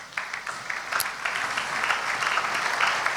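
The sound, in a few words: church congregation applauding the scripture reading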